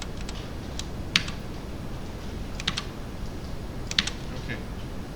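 Programming code is typed on a computer keyboard in short bursts of crisp, close key clicks with small pauses between them, over a faint steady room hiss.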